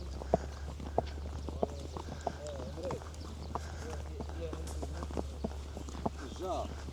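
Horse hooves clip-clop at a walk on a riding tour in Agadir, Morocco, evenly spaced sharp knocks nearby, with a steady low background hum, a few bird calls and people talking quietly.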